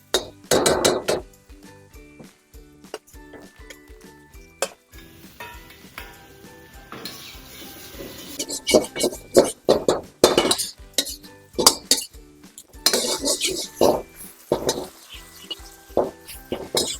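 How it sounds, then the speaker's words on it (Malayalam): Crispy fried chicken strips tumbling into a hot pan of sauce for dragon chicken, with clattering clinks, stirring scrapes and bursts of sizzling spread over several seconds, close and uneven. "ഇത് നമ്മൾ ഫ്രൈ ചെയ്ത് വെച്ചിരിക്കുന്ന നമ്മുടെ ചിക്കൻ സ്ട്രിപ്സ് ഇതിനകത്തേക്ക് ആഡ് ചെയ്യാം."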